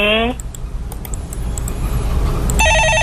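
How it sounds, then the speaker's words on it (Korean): A telephone ringing in a stock market call-in broadcast studio: an electronic ring cuts off at the start, then rings again near the end, loud and close over a steady background. "네, 전화 받아보겠습니다."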